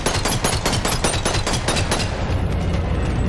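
Rapid bursts of gunfire from a weapon in the Bonelab VR game, fast repeated shots in a steady rattling string for about two seconds, then fading to a lower rumble.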